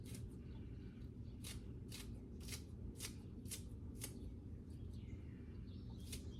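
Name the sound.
scissors cutting dumpling wrappers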